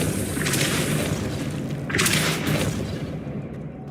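Depulso spell cast in Hogwarts Legacy, a forceful whooshing boom that bursts out, fades, then a second blast follows about a second and a half later, loud and close.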